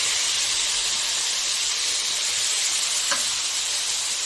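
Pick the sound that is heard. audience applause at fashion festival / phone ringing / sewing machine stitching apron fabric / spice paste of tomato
spice paste of tomato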